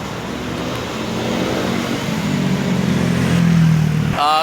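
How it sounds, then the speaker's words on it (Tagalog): Traffic roars past on Aguinaldo Highway, a steady loud wash of car and motorcycle engines building as vehicles approach, with a brief rattle at the end. "Maraming paparating na sasakyan kaya dito muna tayo sa gilid."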